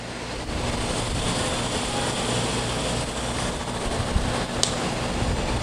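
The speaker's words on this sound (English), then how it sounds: "That's your spindle drifting down to a stop here." A K.O. Lee Dakota series universal tool and cutter grinder spindle with an inch-and-a-quarter grinding wheel spins down after switch-off, a steady close broadband whir with a faint low hum that fades only slightly.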